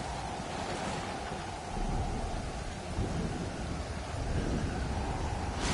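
Steady heavy rain and low rumbling thunder in a stormy survival game setting on open water, a constant wide wash with deep rolling swells, no voices.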